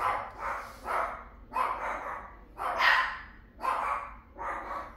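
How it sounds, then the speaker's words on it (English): A dog barks repeatedly in a steady run of about eight barks, moderately close, with no talking. "my dogs are going crazy"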